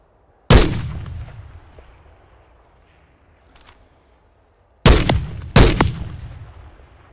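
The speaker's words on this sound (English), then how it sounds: "Who the fuck is shooting me" Loud gunshots in Call of Duty: Modern Warfare 3 on a night map: one sharp blast, a long decaying tail and faint distant pops, then two more close shots in quick succession near the end.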